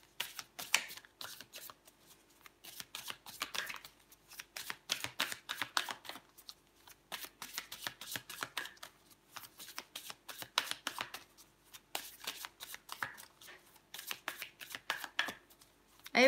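Tarot cards are shuffled in repeated quick riffling bursts with short pauses between, soft and close, crisp papery flutters recurring in a steady rhythm without talking.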